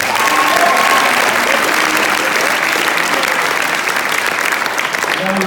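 An audience at a school assembly claps loudly and steadily for several seconds, a dense, full round of applause from a crowd close by.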